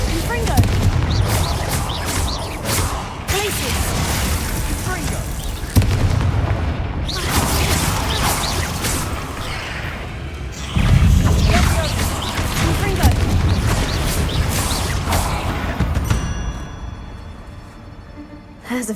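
Fiery Confringo spell blasts in the Hogwarts Legacy video game go off in rapid, loud booms one after another amid a thick battle soundscape, with a voice calling out over the fighting.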